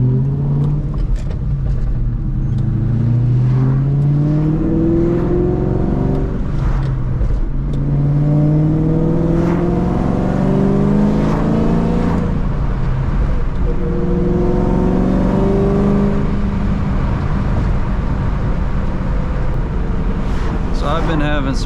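Ford Mustang Terminator Cobra driving on a freezing day, engine rising and falling in repeated revving pulls through gears, loud and close inside the car throughout.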